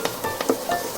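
Garlic sizzling in a pan while beef caldereta is being cooked, short bursts of frying hiss with a few stirring scrapes, close and fairly quiet.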